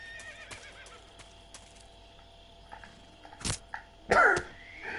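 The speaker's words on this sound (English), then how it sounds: "Sound of a horse." A horse whinnies loudly near the end after a few soft hoof clops and rustles, in a quiet setting in the video game Metal Gear Solid 3: Snake Eater.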